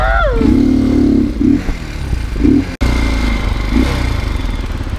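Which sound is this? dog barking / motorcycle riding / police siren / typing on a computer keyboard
motorcycle riding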